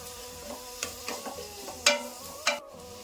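Finely chopped onion frying in a pan for Bombay chutney, a soft sizzle broken by a few sharp scraping stirs and clinks of a spoon against the pan, close and clear.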